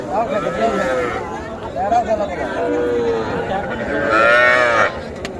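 Cattle at a busy livestock market, several drawn-out moos close by rising and falling over steady crowd chatter and background voices.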